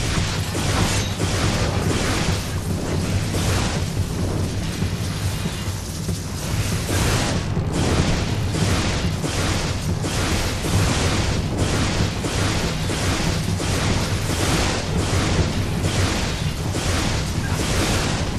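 Dense, continuous rumbling blasts and crashes pound without pause in the video game Fable 2, loud and chaotic, like a barrage of explosions.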